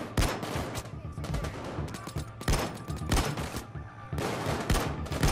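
Gunfire from a gun in Payday 2 during a jewelry store heist, a series of loud, close shots spaced irregularly with bursts of rapid fire, with faint talk in the background.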